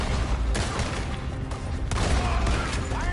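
Gunfire in Red Dead Redemption 2, a dense, busy fusillade of shots with sharp bursts near 0.5 and 1.9 seconds over constant rumbling background noise, with faint voices underneath.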